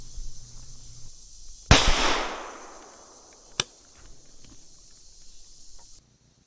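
A 12 gauge single-shot shotgun fires once at a squirrel outdoors, a sharp loud blast with a long decaying rumble, followed by a smaller sharp crack a couple of seconds later over steady insect-like background hiss.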